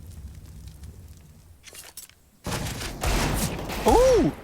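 Rapid Tec-9 pistol fire in a Counter-Strike match, a dense crackling burst of shots close and loud after a quieter stretch, with faint voices beneath.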